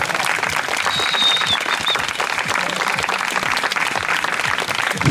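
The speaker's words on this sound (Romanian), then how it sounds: "Peter, aplauze încă o dată, vă rog frumos" Audience applause at a downhill mountain bike race awards ceremony at the Mogoșa Downhill Challenge 2016, dense and steady clapping from a crowd continuing evenly throughout, close and fairly loud.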